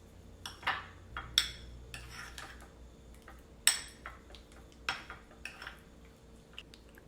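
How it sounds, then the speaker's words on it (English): A spoon stirs a jalapeño popper filling of mixed cheeses, including a Mexican blend, in a bowl, with scattered clinks and scrapes against the sides over a low steady hum, close and without talk. "Now give this mixture a good mix."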